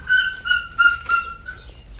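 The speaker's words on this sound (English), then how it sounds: "Hear the yelping. Somebody's playing with the puppy too strongly." High thin yelps from a puppy repeat in quick bursts, about four cries close together, sharp and near with no talking.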